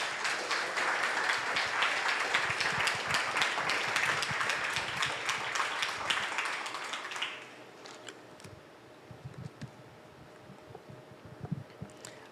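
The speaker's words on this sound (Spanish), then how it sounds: "¿Le quieres dar un aplauso al Señor?" A church congregation applauds a pastor's sermon with dense, sustained clapping for several seconds. The clapping then fades into scattered claps and quiet room noise.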